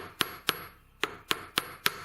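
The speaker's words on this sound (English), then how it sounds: "This is my riveting hammer." A small riveting hammer strikes a rivet held on the edge of a metal block, giving six sharp, ringing metallic taps in an uneven rhythm, loud and close with brief pauses between blows.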